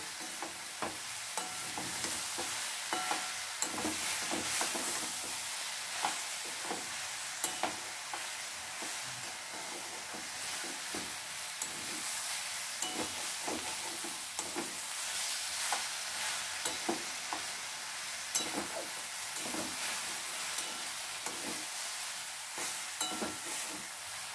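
Radish and moong dal sizzle steadily in a hot pan while being stirred, with a continuous frying hiss and repeated scraping strokes of the spatula throughout.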